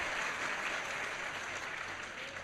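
Audience applause at a Brahma Kumaris spiritual talk, steady dense clapping from a crowd filling the room throughout, with no speech over it.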